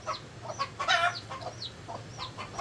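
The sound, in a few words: pet chickens clucking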